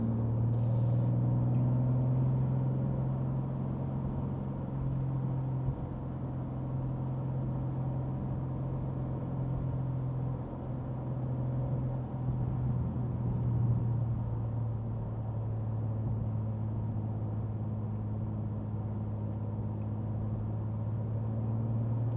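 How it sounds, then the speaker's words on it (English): A BMW M2 cruises down a Kansas back road, its engine giving a steady low droning hum with tire and road rumble, continuous and even throughout with no talking. "this is a fun car to drive down a back road"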